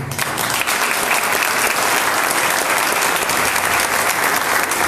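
A church congregation applauds loudly and continuously, a dense sustained wash of many hands clapping together with no break.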